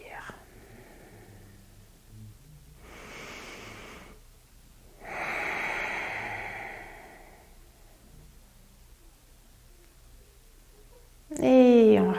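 Yoga warm-up breathing: a slow inhale and a longer, stronger exhale, airy and close, separated by pauses, with a quiet voice near the end.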